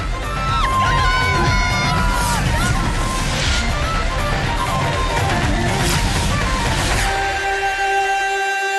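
A big crowd of over 30,000 fills the Telstra Dome before an International Rules test between Australia and Ireland, a loud, continuous roar of cheering and shouting that stays dense throughout.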